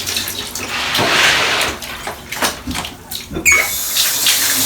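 Rinsed shirts being wrung out by hand, with a steady splashing and trickling of water through the fabric and a few wet squelches, close and fairly loud throughout.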